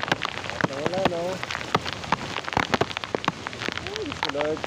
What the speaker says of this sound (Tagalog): Hey guys, malakas na ulan.